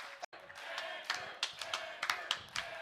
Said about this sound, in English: Crowd are going wild.